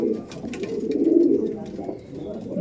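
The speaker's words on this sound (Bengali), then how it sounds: "দেখুন আর এক পিস আবলুক পায়রা হাতে নিয়ে একটু দেখালাম" A male Abluk pigeon held in the hand gives a low, steady cooing that swells in the middle and fades slightly, with faint background noise around it.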